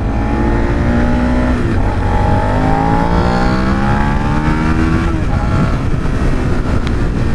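A 2017 Suzuki SV650 motorcycle accelerates from a close riding position, its engine note climbing steadily through the gears with smooth rising harmonics over strong wind and road roar.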